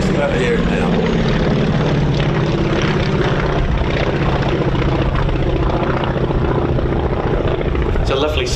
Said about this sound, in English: chuff or a little half a pop, which gives it a distinctive engine note